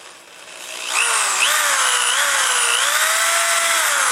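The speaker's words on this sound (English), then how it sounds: "you want to go ahead and drill your holes now" A power drill with a long 1/8 inch bit spins up and whines steadily, its pitch wavering slightly as it bores into fiberglass of a Harley-Davidson tour pack, loud and close.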